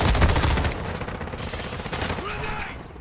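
Rapid automatic gunfire in Call of Duty: Modern Warfare 2, a loud burst of overlapping shots that thins into scattered distant fire and mechanical clatter.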